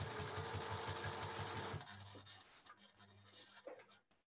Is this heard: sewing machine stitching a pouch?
yes